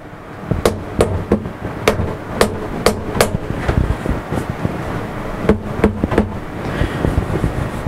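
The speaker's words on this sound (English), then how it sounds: "you use a plastic or a rubber or leather hammer to do that" A soft-faced plastic, rubber or leather hammer taps workpiece material clamped in the vise of a CNC mini mill, two bursts of quick sharp knocks, about seven then three, close and clear with no talk.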